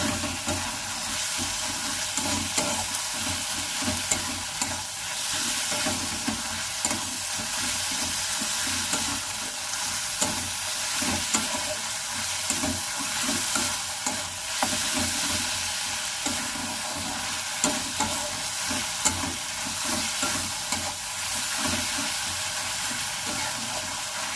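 Ginger and garlic fry with browned onions in a pan, a continuous close sizzle with regular scraping strokes as they are stirred together, no voices present.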